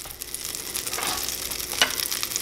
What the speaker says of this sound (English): Okay, butter's melted. Add our cheese.